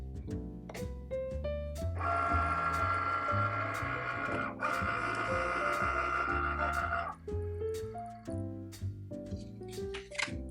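A Cricut Maker cutting machine works on material on a mat, with stepped motor whirs and mechanical clicks, then a long steady hum in the middle before more short stepping movements.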